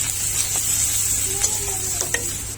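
Salt, turmeric and cumin powder being stirred in a hot pan for a lemon fish curry: a soft sizzle over a steady low hum, with a few light spatula clinks and no voices.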